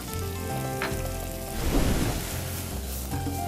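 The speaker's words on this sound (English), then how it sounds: "as the butter melts, we're going to go ahead and add some shallots, which are a type of onion, which we just chopped" Shallots and garlic sizzle steadily in melted butter in a pan, a close, continuous crackling fry that swells briefly midway, with no talking.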